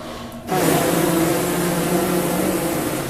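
Several brass players buzz on their mouthpieces together on an F, a steady, loud, raspy drone that starts abruptly after a brief quiet moment and holds continuously, close and without talking.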